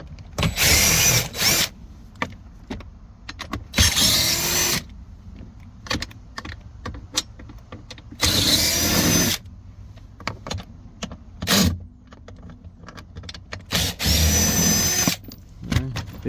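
A power drill runs in short bursts as it backs out dashboard bolts on a 2020–2023 Ford Explorer, loud whirring spells of about a second each, separated by quieter clicks and handling noises.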